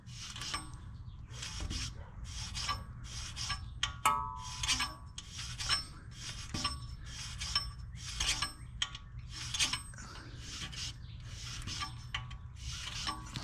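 Rhythmic scrubbing and rasping of a stiff brass bottle brush against metal brake parts of a 2014 VW Tiguan, repeated strokes in a steady back-and-forth pattern with no talking.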